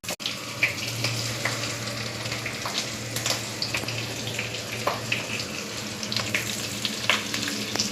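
Spice paste of chilli and coriander-cumin powder sizzles and fries steadily in a pan for a Gujarati potato curry, with scraping stir sounds from a utensil and occasional clicks, close and continuous with no talk.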